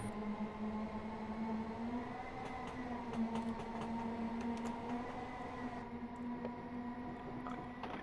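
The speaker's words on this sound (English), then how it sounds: "Oh, got another train coming." Another train passes in the Train Simulator video game on the Sutton to St Albans City route, a steady low engine drone with humming tonal layers and faint clicks, constant and unbroken, with no talking over it.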